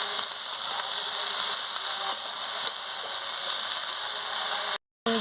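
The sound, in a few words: drumsticks, eggplant and potato stirred with spices in pan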